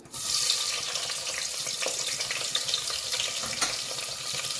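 Chopped onions drop into hot ghee with tempering spices for egg biryani, setting off a sudden loud, hissing sizzle that holds steady and close for a few seconds, with no voices.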